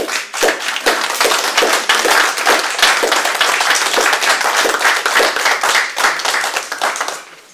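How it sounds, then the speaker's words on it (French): Audience applause after a conference talk on La Courtine 1917 in Seilhac, a dense, steady round of clapping from a roomful of hands, loud and sustained for several seconds before tapering off at the end. "oui, on peut t'applaudir"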